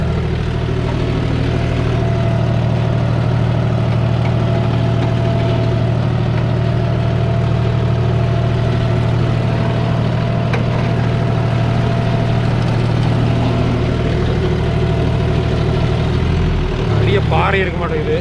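A John Deere 5105 4WD tractor pulling a 5-tine cultivator through field soil runs with a steady, loud low engine drone throughout, with a brief change near the end.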